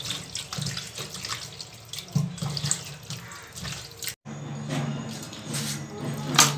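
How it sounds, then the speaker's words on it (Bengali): Running tap water washes raw mutton in a kitchen sink, a steady close splash and gurgle that breaks off briefly and then resumes, with faint clatter on top. "মাংসটা খুব ভালোভাবে পরিষ্কার করে ধোয়া হয়ে গেছে"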